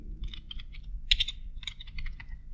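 Keys clatter on a computer keyboard in quick bursts of typing, with brief pauses between runs, as a student registration form is filled in with a name. Close and fairly clear over a low background hum, with no talking.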